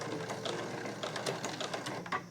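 A sewing machine stitches a tucked pouch, a continuous soft mechanical whirr with faint ticking needle strokes, fairly quiet and close, with no talking.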